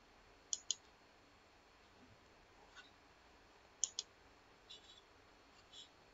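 Sharp computer mouse clicks come in pairs and singles, a double click near the start, another double a few seconds later, then a couple of fainter single clicks, all crisp and close against a quiet background.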